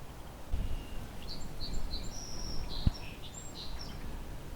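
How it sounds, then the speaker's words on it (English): A song sparrow sings in the distance on an outdoor walk near willow flycatcher habitat, a few thin high whistled phrases and trills over a steady hiss of insects and faint background noise, with no talk. "Song sparrow behind me."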